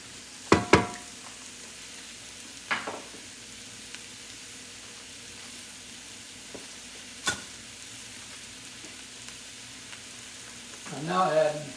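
Mushrooms and onions frying in a pan, a faint steady sizzle beneath occasional utensil knocks and scrapes, with a voice speaking briefly near the end.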